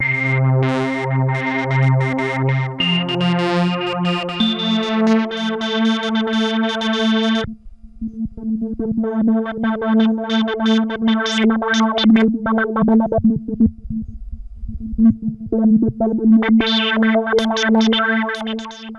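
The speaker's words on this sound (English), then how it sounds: "every synthesizer's got to have this. There is a sample and hold." A Behringer Pro VS Mini synthesizer's sample and hold effect burbles through rapidly stepping random pitches, bright glitchy bursts over a steady low note, with a brief pause midway before resuming.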